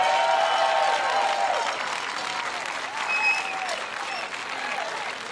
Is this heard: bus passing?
no